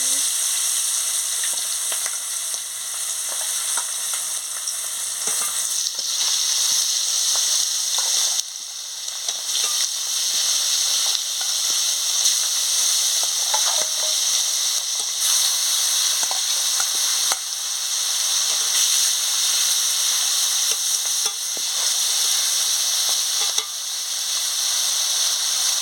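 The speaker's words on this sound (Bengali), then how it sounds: "গরম হয়ে গেছে, মাছটা ছেড়ে দিচ্ছি।" Pangas fish sizzling in hot salted oil, a steady loud broadband frying hiss with faint crackles throughout, no voices over it.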